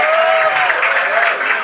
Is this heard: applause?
yes